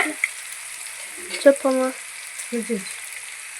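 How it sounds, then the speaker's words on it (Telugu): Fish frying in a pan, a steady hiss of oil running through the whole clip beneath a few short bursts of nearby talking. "అవి అయితే వేగుతున్నాయి కదా"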